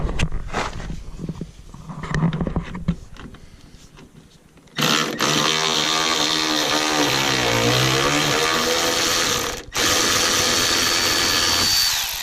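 Power ratchet working a fender bolt loose on a 2003-2007 Chevrolet Silverado, a steady loud whirring run that cuts out briefly and resumes, following some clatter.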